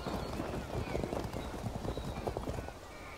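Horse archers galloping during a battle in a Byzantine campaign video game, with dense, continuous hoofbeats close up and occasional whinnies, under a voice giving orders.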